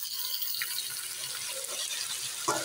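Water is poured into frying spices and fried chicken in a pan while palak chicken is cooked, a steady close hiss and splash running throughout, with a brief sharper sizzle near the end.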